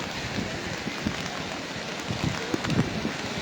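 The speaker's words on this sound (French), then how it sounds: "La pluie arrive de l'arrière." Rain arriving on a gusty wind outdoors at Le Grau-du-Roi: a steady, close broadband hiss with rumbling wind buffets and a few low thumps, and no voices.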